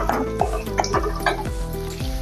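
Finely chopped onion frying in a pan for aloo do pyaza, with a spoon scraping and stirring in repeated strokes over a steady sizzle, close and alone.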